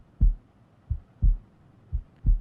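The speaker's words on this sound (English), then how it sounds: "I also used some more sounds from Alchemy as well. So this heartbeat" Heartbeat sound effect from the Alchemy instrument, five deep, muffled thumps in a slow paired rhythm, clear and close against near silence.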